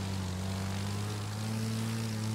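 A propeller plane's engine in the racing game The Crew 2 drones steadily with a strong low hum and buzzing overtones, holding a constant pitch throughout.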